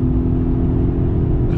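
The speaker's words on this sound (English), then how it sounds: "These four cylinders, it's the same turbocharged and supercharged engine they put in everything, but it makes a really fruity noise at high speed" Four-cylinder turbocharged and supercharged engine of a Polestar 1 at high speed on a race track, a steady droning hum with road rumble, loud and continuous with no talk.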